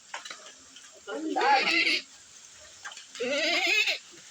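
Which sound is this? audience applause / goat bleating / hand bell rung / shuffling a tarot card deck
goat bleating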